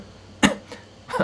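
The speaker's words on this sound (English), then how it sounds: "guess I need to clear my throat." A man clears his throat in a few short, rough bursts, one strong hack followed by two smaller ones close to the microphone in a quiet room.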